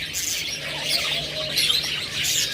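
Pet lovebirds, cockatiels, budgerigars and finches, large healthy active birds, chirp and tweet together in a steady busy chorus with occasional soft cooing, close and continuous with no talk.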